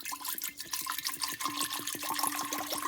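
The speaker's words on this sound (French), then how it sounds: "Donc moi je mets 1 litre d'eau." One litre of bottled water pours into a large jar with quiet, continuous gurgling and rapid glugging bubbles, faint and close.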